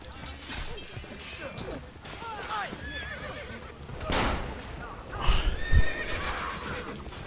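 Horse neighing and whinnying in the video game Assassin's Creed Brotherhood, several loud calls mixed with clip-clopping hooves and combat crashes, with a voice talking in the background.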